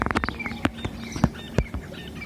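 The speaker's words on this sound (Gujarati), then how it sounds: "અને જો પક્ષીઓ કેવા બોલે છે" Small birds chirp and tweet in brief, scattered calls over soft tapping and clicking noises, fairly close.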